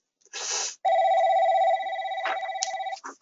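An office telephone rings with a steady electronic tone held for a couple of seconds, then warbles in quick pulses, with a short noisy burst before it and faint sounds around it.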